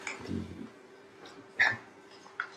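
A small dog whimpers and whines close by in soft, short high-pitched bursts with faint breathing in between, quiet indoors.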